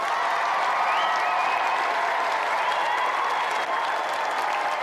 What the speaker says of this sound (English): Another round of applause for tonight's competitor, Tim Cant.